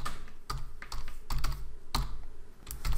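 Python code being typed on a computer keyboard in steady close-up bursts of keystrokes, with short pauses between runs of clicks and no talk.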